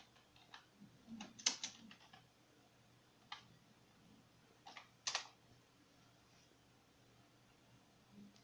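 Faint, sparse clicks of keys on a computer keyboard being typed in a quiet room, a few short clusters of taps separated by pauses.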